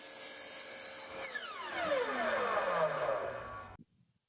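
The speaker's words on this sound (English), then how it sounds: "I then set the miter saw to that angle and make those cuts." A miter saw cutting porch railing parts runs with a steady high whine, then its motor winds down with a falling, coasting tone over several seconds before stopping abruptly.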